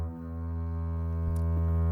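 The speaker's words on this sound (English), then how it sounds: "this is already like a super beautiful drone" A 432 Hz drone from the Naada plugin in Ableton hums as a steady, rich sustained tone full of stacked overtones, gradually swelling slightly louder with a faint click partway through.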